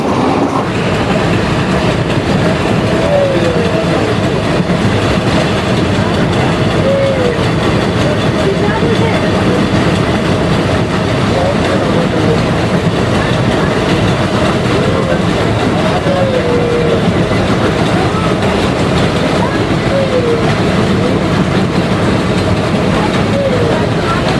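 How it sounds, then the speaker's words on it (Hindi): The Ranikhet Express runs at speed, around 100 km/h, with a constant loud rumble and faint rhythmic clatter from inside the carriage. "इस समय ट्रेन बिल्कुल फॉर्म में चल रही है।"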